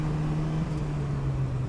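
A Mazda MX-5 NA 1.6 Cup race car on a circuit sends out a steady, loud engine drone with a low, even tone, heard from close by with no talk.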